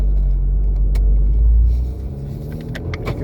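An Abarth 595C Turismo MTA with a Record Monza exhaust, top open, rumbles loudly at a deep, steady idle that eases slightly partway through.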